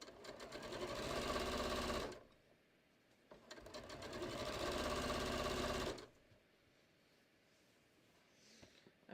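A sewing machine runs in two sustained bursts of about two seconds each while stitching piping onto a cushion cover, close and steady, with brief quiet pauses and fabric handling between.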